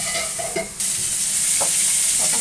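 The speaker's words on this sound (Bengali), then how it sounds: "এভাবে পটলটা একটুখানি ভাজা হোক, এটা এরকম ভাজা হোক" Pointed gourd (potol) frying in a pan, a close, loud, continuous sizzle with a brief dip before it surges again and holds steady to the end, no voices.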